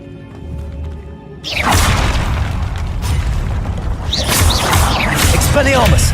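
Hogwarts Legacy video game combat, where a Confringo spell bursts in a loud booming explosion after a quiet start, followed by crashing debris and whooshing effects that continue at high level.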